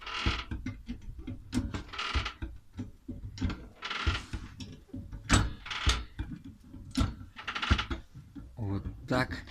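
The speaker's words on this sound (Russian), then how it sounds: "Скрип втулок стабилизатора" Rubber stabilizer bar bushings on a car squeak and creak in a repeating series of short bursts, roughly one per second as the car rocks, with a person talking between them.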